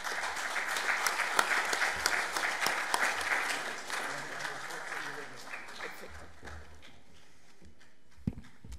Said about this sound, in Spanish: Y los pedimos a ellos con un fuerte aplauso.